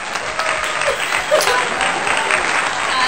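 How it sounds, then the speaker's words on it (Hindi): Family members clap together at home during a Pakistani family challenge, a light scattered patter of hands under a voice speaking. "फरिया तालियां बजाओ"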